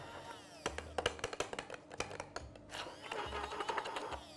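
A hand-held blender whirs in bursts, emulsifying a sauce with olive oil for a salmon and speck dish, the motor starting and stopping several times with clattering against the container, fairly quiet in a kitchen.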